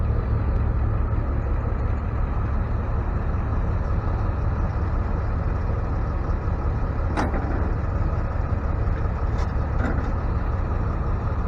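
A 2022 GMC Sierra pickup rolls up onto the deck of a tow truck. A steady, loud low engine rumble fills the whole stretch, with a few faint clicks and squeaks over it and no voices.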